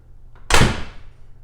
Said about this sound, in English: So unless I really slam the door,